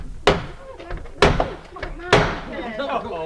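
The heavy original main door of Tutbury Castle, in Staffordshire, gives three loud, sharp thuds that ring briefly, with a voice talking faintly between them.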